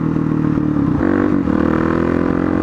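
A Suzuki DRZ motorcycle engine runs close and loud, a steady rumbling idle with a brief rise in revs midway, continuous throughout with no talk.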